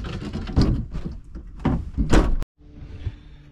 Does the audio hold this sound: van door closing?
yes